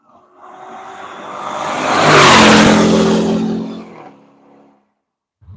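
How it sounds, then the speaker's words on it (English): A race car at Nelson Ledges screams in from a distance down the front straight, its engine rising to a loud roar as it accelerates past, then fading away. "Making some good noise coming down the front straight."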